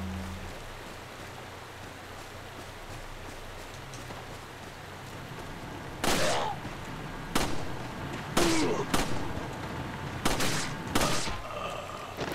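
Gunfire in the Resident Evil 4 village: several sharp shots burst out in a loose, uneven sequence after a quiet stretch of low ambient rumble, each crack loud and close.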